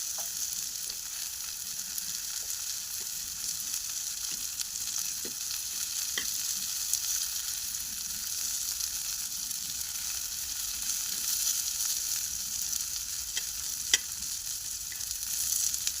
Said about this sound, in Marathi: थोडंसं तेल घालून घेऊया, सुकं खोबरं टाकून आपण छानपैकी भाजून घेऊया।